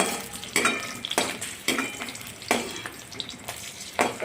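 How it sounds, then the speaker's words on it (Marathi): Green chilies deep-fried crisp in the oil left from cabbage pakodas, giving a crackling sizzle with regular bursts about every half second as a utensil stirs and clinks against the pan. "मग त्याच तेलात मिरच्या तळून घेणे"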